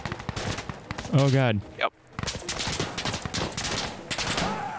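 Rapid enemy gunfire in the tactical shooter Insurgency Sandstorm, bursts of shots crackling steadily through the clip, with a brief dropout in the middle and voices talking over it.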